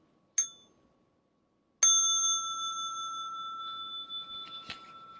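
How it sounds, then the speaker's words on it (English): A small meditation bell is struck twice, first a brief ting, then a clearer strike whose bright tone rings on and slowly decays, heard alone in a quiet room. "I'm going to invite the small bell for some stretching and some massage."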